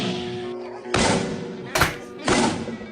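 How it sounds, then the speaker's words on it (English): Joe Rogan lands leg kicks in martial-arts training, giving three sharp, heavy thuds close by, each a loud crack-like impact spaced under a second apart, with quieter rustle between them. "Joe Rogan's leg kicks sound like gunshots"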